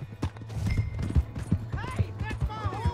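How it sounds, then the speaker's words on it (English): Horse hooves clip-clop at an uneven pace in Red Dead Redemption 2, with close, dull knocks under a voice speaking. "Hey, that's my horse!"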